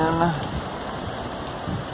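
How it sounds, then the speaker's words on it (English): Steady rain patters and hisses across the whole stretch in Rome, with a brief voice at the start. "Raining"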